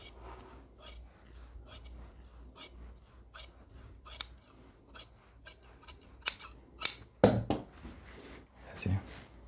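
Scissors snip through gown boning at close range in a series of short, crisp cuts that grow louder and sharper toward the end, over a quiet room background.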